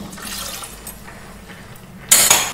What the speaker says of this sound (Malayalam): ഇനി കുറച്ച് വെള്ളം കൂടെ ചേർത്ത് നല്ലതുപോലെ ഒന്ന് ഇളക്കി വെച്ച്